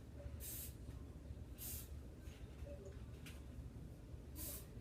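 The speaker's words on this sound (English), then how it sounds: "Now I'm going to use hairspray just to lift it up." Hairspray is sprayed onto short twisted hair during an up-do styling. It comes as three short, soft hissing bursts spaced a second or more apart, quiet and close, over a low background hum.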